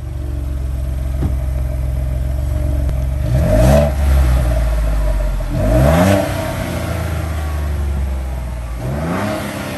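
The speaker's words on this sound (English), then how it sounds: "He's gonna do a little rev action on this stock exhaust" A 2021 Ford Bronco engine with stock exhaust idles with a steady rumble, then revs twice in sharp bursts that rise and fall back to idle, close and loud.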